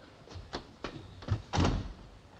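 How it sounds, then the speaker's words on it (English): A few soft thuds and knocks build to a heavier thump, like a door being pushed closed, quiet and close by. "Shut the door."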